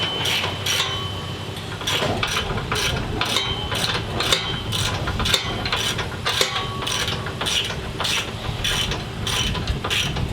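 A hand ratchet clicks rapidly in quick bursts while tightening a nut onto a bolt during repair work on a 2019 Honda Odyssey EX-L, the close, crisp ticking repeating over a low background hum.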